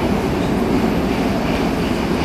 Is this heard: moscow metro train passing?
yes